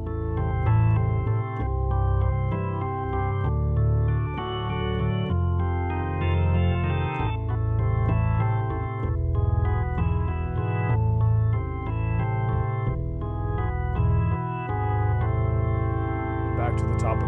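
Piano plays the chord progression of House of the Rising Sun as one continuous run, steady rhythmic chords close up with no talking.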